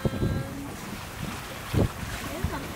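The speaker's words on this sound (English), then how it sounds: "We are sailing on a beam. We have 10 to 14 knots of wind." A sailboat on a beam reach in 10 to 14 knots of wind: constant wind rush and water noise with low thumps of hull and rigging, close and steady throughout.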